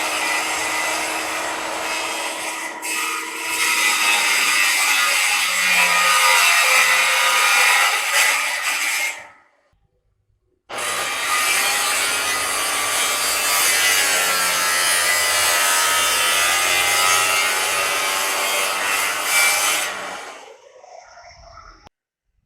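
A hand saw cuts a series of finger cuts into a wooden board for a front porch top railing, a loud, close, rasping back-and-forth stroke rhythm lasting about nine seconds, a brief pause, then another long run of sawing.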